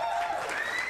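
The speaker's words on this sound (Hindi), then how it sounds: "तालियां जोरदार इनके लिए।" Loud applause for a singer on a Hindi entertainment show: a brief burst of crowd clapping and cheering, with a thin whistle-like tone rising through it.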